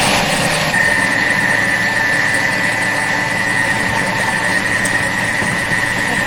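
A Thermomix kitchen machine runs at speed 4, blending zucchini fritter batter with a steady, loud motor whir and hum throughout, with no talk.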